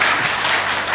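Audience applause at a live open-mic poetry performance, a dense, steady wash of many hands clapping that fills the whole moment at full loudness with no talk over it.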